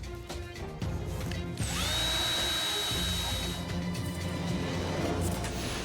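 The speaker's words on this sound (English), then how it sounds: "I have to drill a hole" A power drill whirs steadily near the microphone, starting up and running continuously with a high motor whine over background noise.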